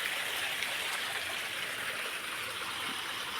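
A small stream runs beside a large river in the monsoon, its water rushing as a steady, even broadband wash with no breaks and no voices.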